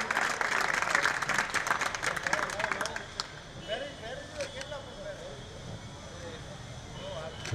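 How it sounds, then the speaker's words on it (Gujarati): An audience gathered at a yagna ceremony in a Gurukul applauds and cheers to welcome a swami, loud dense clapping that fades after a few seconds into crowd murmur and scattered voices. "તાળીઓ અને નાદથી વધાવીએ।"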